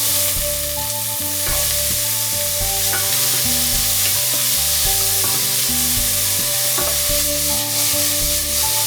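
Onions frying in neutral oil in a medium saucepan over medium-high heat, a continuous bright sizzle, close and loud, with a steady tonal music bed playing underneath.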